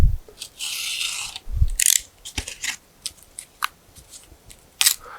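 Cardboard is cut with scissors for a water bottle rocket build, resting on a cardboard sheet over a table, giving loud close crunching snips and rasping strokes in irregular bursts with pauses between.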